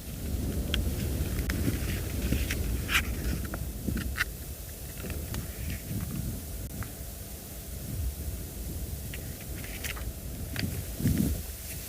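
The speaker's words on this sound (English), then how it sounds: "There's a bit of wind at the moment, which is a bit refreshing." Steady wind rumbles and buffets outdoors on an open safari vehicle in South African bush, a continuous low roar with faint scattered knocks and rustles throughout.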